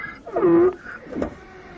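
A cartoon donkey brays from an animated film, a loud wailing bray followed by a shorter second call, close and alone without speech.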